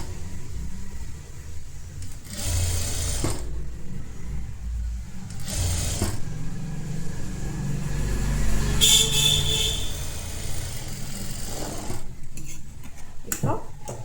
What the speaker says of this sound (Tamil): அதுக்கப்புறம் ஒரு ஃப்ளாட் ஸ்டிச் போட்டுக்கோங்க.